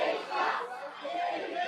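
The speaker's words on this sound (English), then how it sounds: "The crowd is really showing who they are for and against here in this matchup." A wrestling crowd at a live show in Sault Ste Marie cheers and jeers, a dense roar of mixed shouts and calls that swells and dips over less than two seconds.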